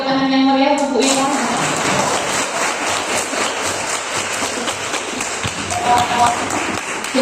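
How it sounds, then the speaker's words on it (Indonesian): Lively applause for a teacher at an elementary school drug-prevention event, with dense, sustained clapping from a crowd that starts after a brief voice and keeps going to the end. "Boleh beri tepuk tangan yang meriah untuk Bu Ila."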